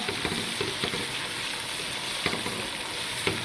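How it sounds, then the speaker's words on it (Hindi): Tomato paste fries in a pan for a beef liver masala, a continuous close sizzle broken by frequent small spatters and occasional spoon scrapes, moderately loud throughout. "तो इसको भी ज़रा फ्राई कर लेते हैं थोड़ा सा।"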